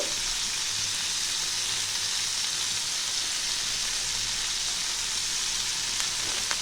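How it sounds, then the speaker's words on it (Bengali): Chicken do piaza fries lightly in a pan after kasuri methi is added, giving a steady, dense sizzle that runs unbroken and fairly loud throughout, with no voices. "এটা একটু হালকা করে ভাজবো আমি। এতে একটু আমি কস্তুরি মেথি দিচ্ছি।"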